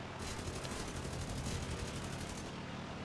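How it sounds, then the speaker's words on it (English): Rapid gun burst from a Hawk-III fighter plane in War Thunder, a dense continuous rattle of gunfire lasting over two seconds, loud and close with engine drone underneath. "So I fire a good burst"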